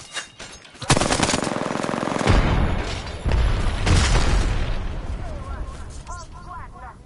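A heavy grenade explosion in a video game booms after a brief lull, then rolls on amid dense, continuous gunfire and crackling debris.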